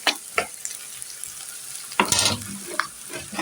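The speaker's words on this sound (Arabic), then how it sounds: "عشان التوم برضو من ضمن اللي هيتحمر وكده. برضو هنقلب كله مع بعض" Garlic and other food fry in a pan while being stirred, a constant close sizzle broken by scraping stirs and clatters.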